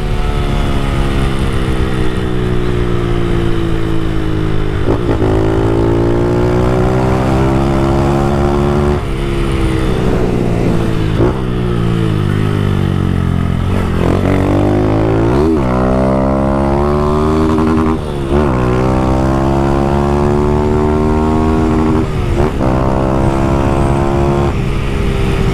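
Honda Fan 160 motorcycle with a Fortuna exhaust revving hard and climbing through gears, engine pitch sweeping up and dropping repeatedly with each shift, loud and close throughout.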